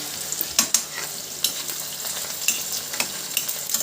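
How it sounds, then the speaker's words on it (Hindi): Onions frying in a pan on a home stove give a steady, fairly quiet sizzle with occasional sharper crackles and spits, heard alone without talk. "ये प्याज हो रही है गरम"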